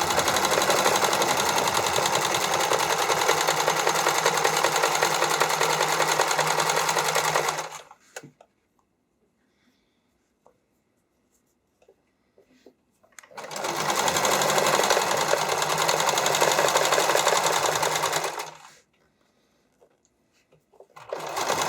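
Sewing machine stitching an elastic swimwear strap, running in two long bursts of steady, loud mechanical whirring separated by several seconds of near silence.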